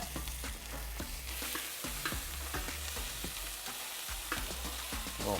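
Chorizo sizzles and crackles in a hot pan while a spatula scrapes and taps against the metal in a loose, repeated rhythm, all close and continuous.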